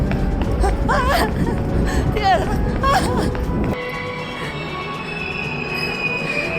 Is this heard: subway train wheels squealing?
yes